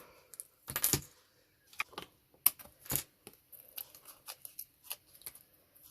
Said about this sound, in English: I'm just going to trim around the edge of that extra bit of stocking